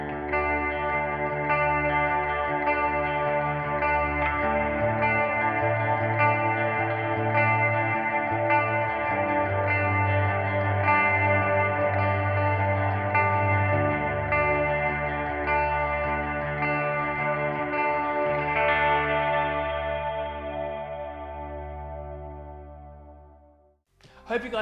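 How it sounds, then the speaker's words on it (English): An ESP/LTD NW-44 Neil Westfall signature electric guitar plays clean, ambient chords through an amp-simulator plugin with reverb and delay, producing long shimmering sustained tones that shift pitch slowly and fade out at the end. "I'm going to be running this through JST Toneforge Jeff Loomis plugin with a bit of reverb, a bit of delay, just to show you how it sounds in nice ambient tones."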